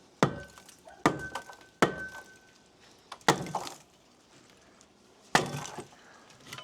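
A King Kindling Cracker splitting wedge splits a small, knotty mesquite log with about five sharp, woody cracks and thuds spaced a second or more apart, near and fairly loud, with no talking.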